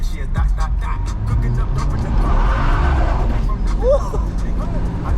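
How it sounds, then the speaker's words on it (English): A car spins its tires on a road in Australia, a roaring engine rising with a brief squealing screech as the wheels break loose, loud and close. "I don't know, this car's weird. Sometimes it spins tires, sometimes it doesn't."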